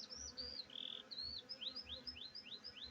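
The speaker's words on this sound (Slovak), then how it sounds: "Včelky makajú." Honey bees buzz around their hives, the hum of many insects rising and falling near the listener, with several individual bees whining past up close.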